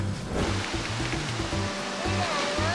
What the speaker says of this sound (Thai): เวลคัมครับน้ำตกที่ไม่มีชื่อเสียงนะครับ แต่สวยนะ